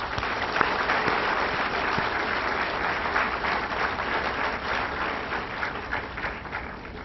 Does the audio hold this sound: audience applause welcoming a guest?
yes